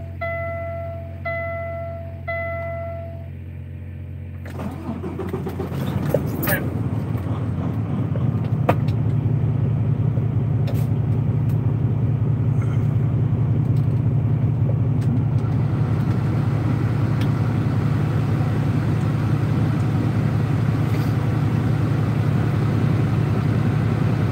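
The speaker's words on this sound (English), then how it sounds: "Let's start this truck up, get the AC going" A truck engine cranks and fires up, then settles into a steady, loud diesel idle with a constant low drone, with the AC running, and no one speaks.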